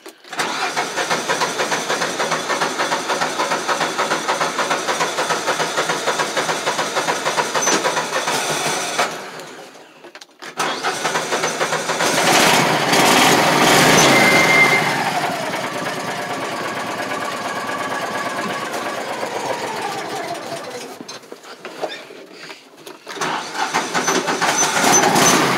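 A 2014 Landmaster LM650 utility vehicle engine cranks, starts and runs at a steady, loud idle with a buzzy mid-pitched drone, briefly dropping out twice before catching again and continuing close by.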